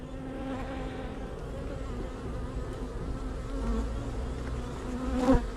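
Honey bees hum in a dense, steady drone inside a busy hive, close and continuous, swelling slightly near the end.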